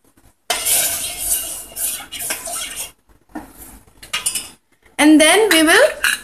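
A spoon stirs cinnamon powder into milk in a pot, giving several bursts of clinking and scraping against the metal, separated by short pauses and ending in a brief louder passage.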